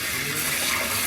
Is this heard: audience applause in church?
no